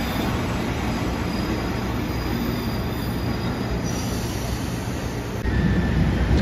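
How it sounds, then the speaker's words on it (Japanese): The KiHa 185 series Anpanman Torokko tourist diesel train pulling into Takamatsu Station, a steady close rumble with high wheel squeal and a brief rise in noise near the end. "高松駅8時54分運用につくために入線しました観光列車アンパンマントロッコ列車キハ185系特急機動車です"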